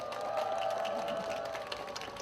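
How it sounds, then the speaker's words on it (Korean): A crowd at a political campaign rally in Korea claps in steady applause, heard somewhat distant and moderately quiet, with some cheering mixed in. "어머님 만수무강 하시라고 격려 박수 한번 부탁드리겠습니다"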